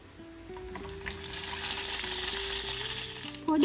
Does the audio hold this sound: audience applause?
no